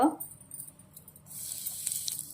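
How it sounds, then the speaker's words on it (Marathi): Asafoetida hits hot oil in a pan for a Marathi-style drumstick leaf vegetable, giving a faint, soft sizzle that rises after a brief quiet start and continues steadily. "तर आता तेल चांगलं तापलेलं आहे. त्यात हिंग"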